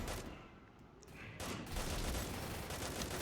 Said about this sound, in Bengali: সেকেন্ড রাউন্ডে AN94 দিয়ে আরেকটাকে হেডশট দিচ্ছে